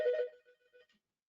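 A mobile phone ringtone plays a brief melodic burst that quickly fades into a few softer, broken tones before silence, with no voices.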